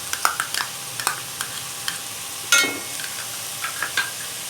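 Vegetables and macaroni fry lightly in a pan under a continuous sizzle, punctuated by repeated sharp scrapes and clacks of a spoon stirring, with one louder scrape midway; no voices.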